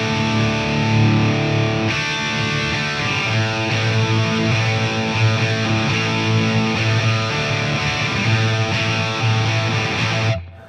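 A Gibson Les Paul Studio electric guitar plays through the high-gain channel of a Marshall amp with a Boss noise suppressor and light reverb: loud, sustained distorted chords ring steadily for about ten seconds, then cut off abruptly.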